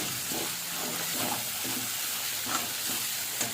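Potatoes and pointed gourd frying in oil over a low flame, a continuous near sizzle with soft stirring scrapes running throughout, no talking.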